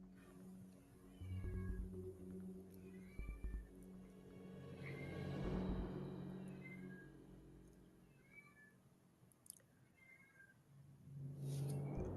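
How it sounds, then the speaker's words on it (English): A cat meows repeatedly at night, a string of drawn-out yowling calls over a low rumble of passing traffic, some louder and nearer, others fainter. "And that cat is active tonight."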